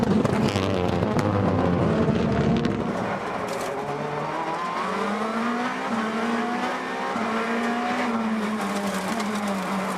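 Rallycross race cars at a Red Bull Global Rallycross event in New England slide off dirt and back onto pavement, engines revving and rising in pitch with tire noise, loud and continuous.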